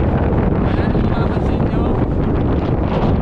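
Loud wind buffets the microphone in a constant low roar from the back of a moving pickup truck, gusting slightly without letting up.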